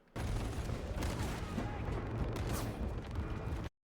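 Shotgun blasts and bullets whizzing past in a Darktide video game trailer, a dense, continuous roar of gunfire and booms filling the whole few seconds before cutting off abruptly.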